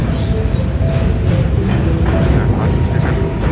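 Passenger train running on tracks near Dehri junction heading toward Sasaram, a steady loud rumble and rattle from on board, continuous throughout with a faint voice under it.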